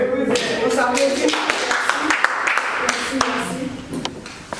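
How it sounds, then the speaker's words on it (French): Scattered applause from a small studio audience during a family budgeting talk show, uneven claps ringing out for several seconds with voices chattering underneath. "On s'applaudit."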